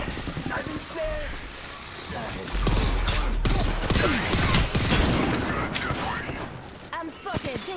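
Apex Legends gunfire rattles in scattered bursts amid busy game effects, with a player's voice talking over the shots throughout.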